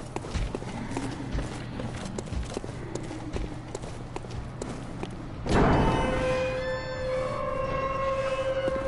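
Horse hooves from the horseman in the video game Bloodborne clop in a steady walking rhythm at moderate distance. Partway through, a sustained tonal drone comes in and plays under the hoof steps.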